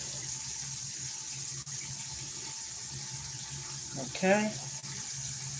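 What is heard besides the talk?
water running from a tap, rinsing a tomato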